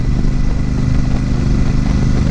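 A Royal Enfield Super Meteor 650 motorcycle engine runs loud and close with a steady, throbbing low drone and no pauses.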